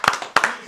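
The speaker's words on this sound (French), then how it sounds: "On applaudit s'il vous plaît les gars" Three sharp, close hand claps at a slow, uneven pace, each a crisp bright smack with a short ring, and quieter sounds between them.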